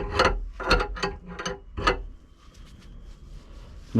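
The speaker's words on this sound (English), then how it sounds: "Use the 19mm spanner." A 19mm spanner tightens a reverse-thread adjuster on a Seat Leon Cupra R, five close ratcheting clicks in quick succession, loud and near, then a quieter mechanical rattle with no talking.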